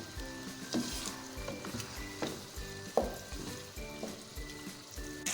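Half a kilo of beef fries over a medium to high flame for white biryani, an uneven crackling sizzle punctuated by several sharper spatters and stirring knocks, close and fairly quiet, without speech.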